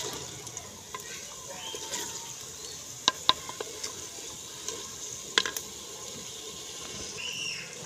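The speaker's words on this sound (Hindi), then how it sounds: "अभी हम थोड़ा सा इसको भून लेंगे, फिर डालेंगे पानी।" Chopped fenugreek and vegetables fry quietly in a pan, a soft steady sizzle broken by a few sharp clinks of a spoon stirring against the metal.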